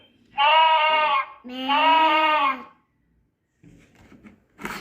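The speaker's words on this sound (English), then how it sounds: "sheep," A sheep bleats twice, each call loud, wavering and close, the second slightly longer and lower, followed by a moment of quiet and a few faint noises.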